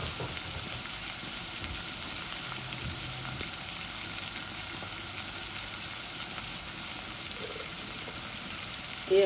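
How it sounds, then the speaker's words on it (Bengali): Onion added to garlic already frying in a pan produces a continuous, even hiss of sizzling oil heard close up, with faint stirring and no voices. "এই আমার রসুনটা লাল হয়ে গেছে, আমি আমার আন্দাজ করে পেঁয়াজ দিয়ে দিচ্ছি, আমি ছোট একটা পেঁয়াজ দিচ্ছি।"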